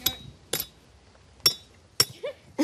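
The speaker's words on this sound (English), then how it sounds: "It's not the best hammer." A hammer knocking in tent pegs at a 1950s-style campsite: four sharp metallic clinks, evenly spaced about half a second to a second apart, close and fairly loud, with faint voices between strikes.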